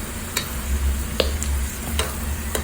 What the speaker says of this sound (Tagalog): Nigisa-gisa ko na po sa bawang at sibuyas ang chicken breast at chicken liver